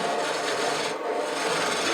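Wood being cut on a lathe while turning a shop stool leg, a continuous close rasping, rubbing scrape with a brief dip midway.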